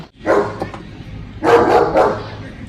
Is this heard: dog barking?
yes